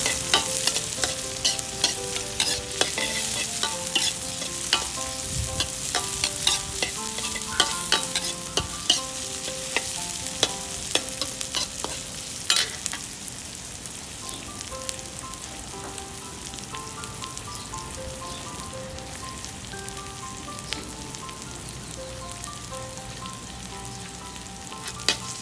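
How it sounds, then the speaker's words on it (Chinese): Onions and carrots stir-fried with garlic in a pan crackle steadily up close, broken by frequent clicks and scrapes of the spatula, busier in the first half and calmer later, with no voices. "我们再放入100克的洋葱和胡萝卜哦，然后需要炒到洋葱变透明哦"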